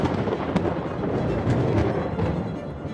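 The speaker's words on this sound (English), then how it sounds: "Suddenly, lightning flashes in the sky and thunder rumbles." Thunder rumbles through a thunderstorm, a low continuous roll with faint sharper cracks, moderately loud and steady across a few seconds.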